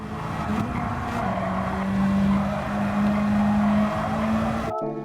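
A race car in Gran Turismo 7 corners at Red Bull Ring, engine note holding high and loud, dipping and climbing through a gear change with faint tire squeal, cutting off abruptly at the end.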